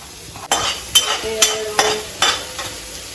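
Garlic and onion fry in olive oil in a single pot, a soft sizzle under crisp, regular scrapes and clinks of a utensil stirring roughly every half second, close and fairly loud.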